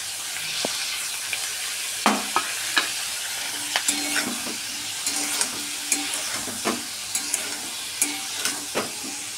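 Paneer bhaji with tomatoes frying on a low flame, a gentle steady sizzle broken by repeated sharp spatula scrapes and taps against the pan at irregular intervals, close and without voices.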